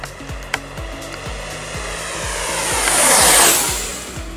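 An F-15 Eagle RC jet with twin 64mm ducted fans flies past at full throttle, its high whine swelling louder as it nears and sweeping down in pitch as it passes, with intermittent low thumps underneath.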